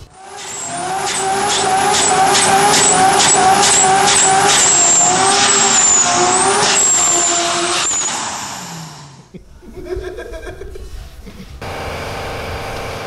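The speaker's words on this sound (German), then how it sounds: "der Kompressor läuft jetzt schon warm" An air compressor for a car's air-ride suspension runs loud and close, a steady buzzing hum with rapid regular pulsing for about nine seconds before it cuts off, leaving quieter clatter and hiss.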